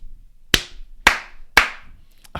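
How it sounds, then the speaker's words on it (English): Three sharp, close hand claps used as a camera slate, evenly spaced about half a second apart, with a fainter tap at the end in a quiet room. "he claps"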